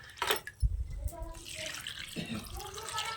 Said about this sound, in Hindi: इस बर्तन से 2 लोटे पानी कढ़ाई में डालने पड़ेंगे।